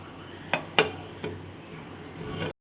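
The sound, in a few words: closing a pressure cooker lid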